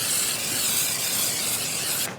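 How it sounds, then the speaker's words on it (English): A continuous hissing burst of aerosol paint prep sprayed onto a vehicle surface, close and loud, lasting about two seconds before cutting off abruptly. "shake it up a little bit and spray it on the surface"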